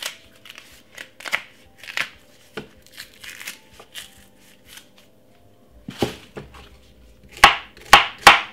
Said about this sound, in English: Cut it up very small.